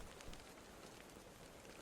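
Steady, dense rain patter in a video game, a continuous broadband hiss with soft drop texture, moderately quiet and unbroken, with no voices.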